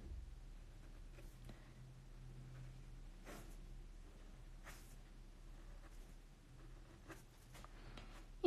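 A pencil scratches across paper while a jumper sleeve is drawn, soft close strokes coming in short irregular bursts over a quiet background.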